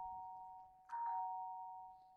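A soft electronic hospital chime rings two sustained tones, the second striking a little under a second in, both fading slowly in a quiet room.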